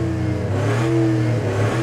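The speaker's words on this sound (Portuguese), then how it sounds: "o bagulho gritou o motor aqui, hein?" A drag-race car's engine revs loud and close, a strained, steady mid-pitched roar that swells slightly and holds for about two seconds with no voices.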